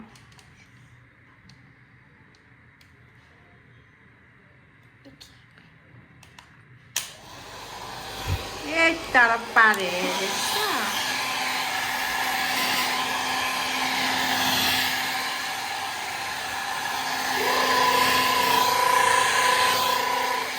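A hair dryer drying hair; after about seven quiet seconds it switches on and blows loud and steady to the end, with a voice and a few brief cries rising over it early on.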